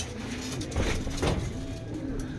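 Racing pigeons trained for a South Derby race coo softly as they enter the loft, low murmuring calls with two brief louder swells over steady outdoor noise.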